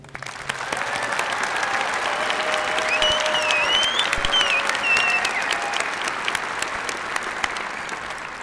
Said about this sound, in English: please join me again in a round of applause for our servicemen and women